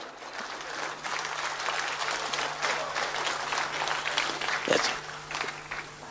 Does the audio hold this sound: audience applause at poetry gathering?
yes